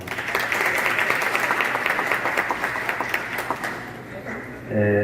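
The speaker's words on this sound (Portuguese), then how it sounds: "Uma salva de palmas." Audience applause at an opening ceremony, a steady dense clapping that holds through most of the stretch before a voice begins speaking near the end.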